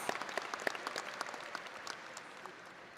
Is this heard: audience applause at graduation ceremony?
yes